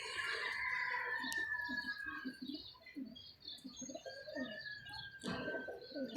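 Pigeons at a show of long-flying pigeons coo softly among chirps and other bird calls, a steady layer of birdsong running throughout at moderate distance.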